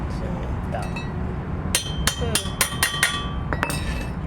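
Metal hammer blows drive a universal joint bearing into the centre driveshaft of a Toyota Commuter van: about eight sharp, ringing strikes, close and loud, following in quick succession after a quieter stretch.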